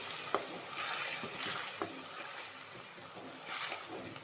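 Boiled dal being stirred into a simmering curry with drumstick, okra and mango in a pan, making a faint wet churning and soft scraping with a couple of light knocks, quiet and close.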